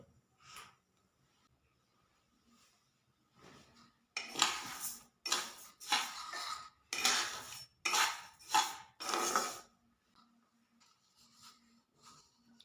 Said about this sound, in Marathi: तर तांदूळ आपल्याला कढईमध्ये घ्यायचे भाजून घेऊया